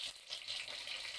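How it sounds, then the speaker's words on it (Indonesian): Chicken wings fry in a pan of hot oil with a continuous bright sizzling hiss, close and steady, with no talking. "dan ini aku goreng sayap aja"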